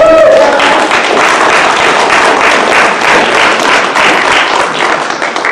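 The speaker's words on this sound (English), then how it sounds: "Let's give them a round of applause" Loud, sustained applause from an audience of writers honoring newly published authors at a writing conference event, dense steady clapping filling the room throughout.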